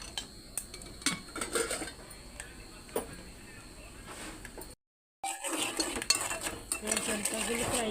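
Peanuts frying in oil in a kadai, with metallic clinks and scrapes of a spoon against the pan over a crackling background, cut by a brief silence midway before resuming.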